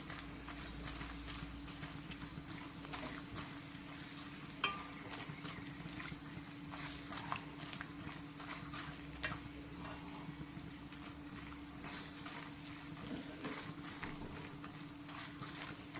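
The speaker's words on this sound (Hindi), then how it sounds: "इसी तरीके से हम सभी गोंद को भून लेंगे।" Gond, edible gum, frying in ghee, puffing up in the pan: a faint continuous crackling sizzle with scattered small pops, steady and close, with no talking.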